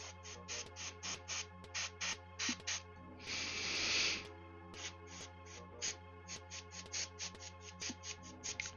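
An airbrush sprays paint onto a miniature in quiet, short rhythmic hissing puffs, with one longer continuous burst of spray in the middle before the quick pulses resume.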